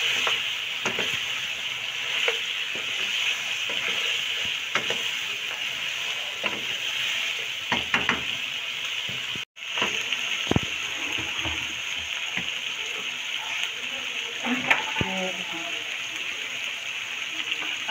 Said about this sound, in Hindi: अब इस पेस्ट के साथ हम 2-3 मिनट के लिए इसे फ्राई करेंगे।